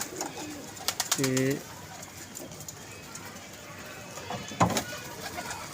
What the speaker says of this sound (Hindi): बहुत कमाल का कबूतर है यार